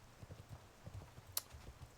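Horse mount hooves in World of Warcraft Ascension clip-clop in a steady, quick walking rhythm, soft and fairly quiet throughout, with one brief bright jingle partway through.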